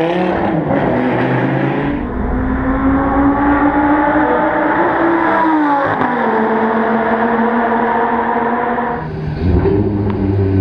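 Lamborghini race car on a circuit, its engine roaring loud and close throughout, holding steady tones with shifts in pitch as it accelerates and changes gear.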